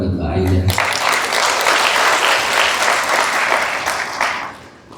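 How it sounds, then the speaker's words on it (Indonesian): A graduation ceremony audience for a D3 nursing program breaks into applause after a brief spoken line, then sustains loud, dense clapping from many hands before it tapers off at the end. "Tepuk tangan buat Mbak Aida."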